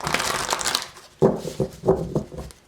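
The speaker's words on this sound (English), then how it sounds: "Get them nice and shuffled here." A deck of tarot cards is shuffled in bursts of crisp riffling and shuffling, close to the microphone, with several short rustling strokes following one another.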